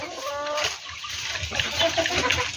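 Hill chickens and local chickens cluck nearby in a noisy farmyard, with short calls rising over a steady background hum and a brief lull partway through.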